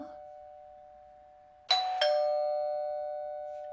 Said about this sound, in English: was that a doorbell?